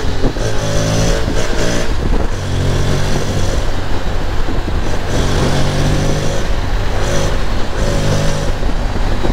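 A Honda X-ADV 750 motorcycle accelerating hard, its engine revving loud and close in repeated surges as it pulls through the gears, steady and continuous throughout.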